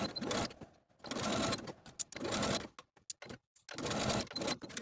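A domestic sewing machine stitches in the ditch along the waistline seam of a 1970s vintage jersey wrap dress, running in several short bursts separated by brief pauses.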